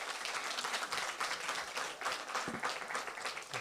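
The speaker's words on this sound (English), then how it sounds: "Round of applause." Audience applause at a public talk on South Africa's future, a steady wash of many hands clapping close and loud throughout, with no voices over it.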